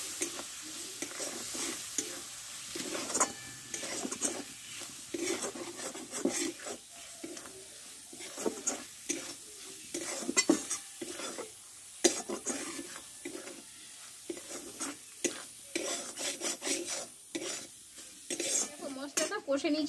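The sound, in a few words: stir-frying spice paste with turmeric in a pan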